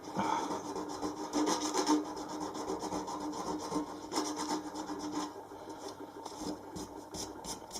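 Rough, continuous rubbing and sanding strokes smooth the painted hatch top of a narrowboat, close and moderately quiet, with a scraping rhythm throughout and no talk.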